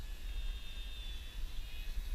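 Small E-flite AS3Xtra radio-controlled aerobatic plane flying slow and hovering, its electric motor giving a steady high whine with a low wind rumble underneath, held at moderate distance throughout.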